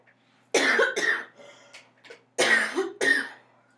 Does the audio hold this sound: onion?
no